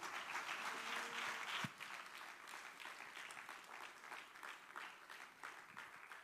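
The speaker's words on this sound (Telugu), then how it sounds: "బిగ్గరగా చప్పట్లు కొడుతూ" Audience at a church gathering applauding loudly, a dense, continuous wash of clapping that stays steady throughout, with a brief tone and a sharp knock early on.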